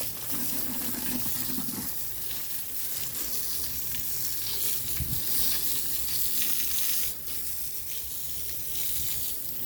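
Steady rushing water pours continuously from a garden hose nearby, a broad hiss, with a brief low thump in the middle.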